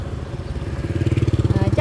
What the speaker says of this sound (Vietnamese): đường xe cộ rộng rãi ha, xe ô tô nè rộng rãi, xe đạp điện, xe máy